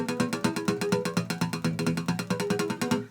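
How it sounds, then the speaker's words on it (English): Rapid, evenly pulsing bell-like harmonics come from a finger dragged along an electric guitar string, a steady stream of bright, ringing chimes at moderate volume with no talking. "By just dragging my finger along the string."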